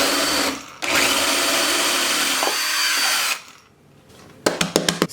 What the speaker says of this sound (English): I'm gonna use my drill machine to make the hole here.